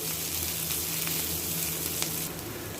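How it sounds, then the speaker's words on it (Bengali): Sliced onions and green chilies with cumin frying in a pan of hot oil, a steady close sizzle with faint crackles throughout, no voices. "পেঁয়াজ নরম করে ভাজি করে নিব"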